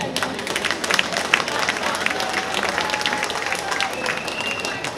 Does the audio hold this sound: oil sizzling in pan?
no